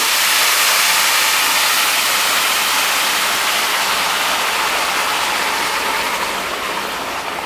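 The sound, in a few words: broth poured into a hot pan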